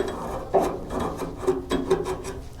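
Metal is trimmed on the tailgate of an OBS GMC/Chevy C1500 pickup truck, giving a close, uneven series of harsh rasping and scraping strokes with no talk.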